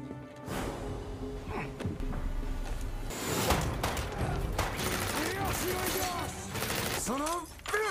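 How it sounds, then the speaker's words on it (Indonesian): Gunfight in an action film, with dense overlapping gunfire and thuds, loud and sustained, mixed with shouting voices and ringing, whistling effects toward the end. "sehingga terjadilah adu baku tembak di sana"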